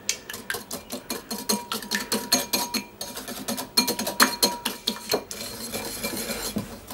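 A spoon or whisk beats lemon juice into cream in a bowl, giving close, steady, rapid clinking and scraping strokes in an even rhythm with no talking.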